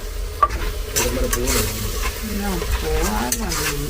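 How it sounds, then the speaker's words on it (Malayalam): Chicken sautéing with ginger and garlic in a pan, a steady close sizzle and fry with stirring scrapes throughout, with faint background noise and no clear talk. "അതിനകത്ത് ചിക്കൻ ഉണ്ട് ചിക്കൻ ഉണ്ട് അത് ഇച്ചിരി ഒന്ന് വഴറ്റിട്ടേ"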